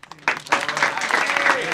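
Applause from a ceremony crowd in a police drama scene, with scattered claps building into a fuller round, mixed with voices and speech over it.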